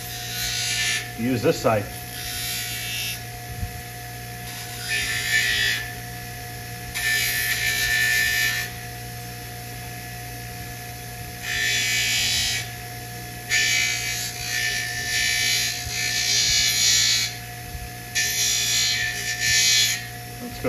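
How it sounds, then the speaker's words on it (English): A handheld power tool grinds down half-inch-thick wood pieces during an arcade cabinet restoration, sounding in repeated loud bursts of a few seconds each over a steady motor hum, with brief speech between passes. "kind of grind these down a little bit."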